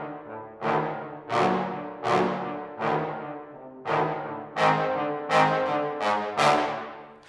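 A ProjectSAM trombone section plays a passage of about ten punchy brass notes and chords, captured through far ambient microphones, each note blooming with a roomy decaying tail.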